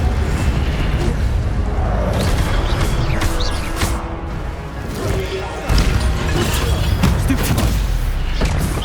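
Fire spell cast in the Hogwarts Legacy video game, heard as loud, dense bursts and crashes of in-game combat that keep going in a busy, overlapping mix.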